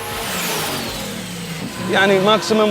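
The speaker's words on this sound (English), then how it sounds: "demonstrated the engine to give me a sense of its power" A twin-turbo Jeep tuned for dune climbing revs its engine nearby, a steady drone that swells into a louder rising roar near the end, with a voice talking faintly underneath.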